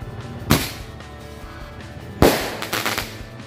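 Firecrackers set off for Eid al-Adha: two sharp, loud bangs about two seconds apart, each trailed by rapid crackling pops and rattles over a steady background hiss.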